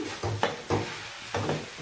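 Egg chowmein ingredients are stirred in a frying pan, with a spatula scraping in several distinct strokes against a soft sizzle, close and fairly loud, with no talking.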